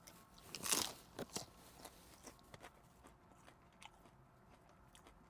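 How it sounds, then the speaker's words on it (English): A crunchy taco is bitten close up, giving one sharp loud crackling crunch followed by several smaller crunches and quiet chewing. "But I wanted you to hear that crunchy taco."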